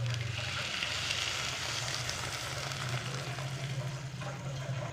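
Sizzling and bubbling from a pan of Kerala potato mappas curry as second-extract coconut milk is poured in, a steady broadband hiss with a low rumble, continuous and close throughout.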